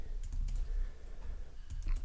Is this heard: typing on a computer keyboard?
yes